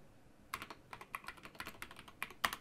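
Keys clatter on a computer keyboard as a word is typed in a quiet room, a quick irregular run of crisp clicks that ends with a firmer tap.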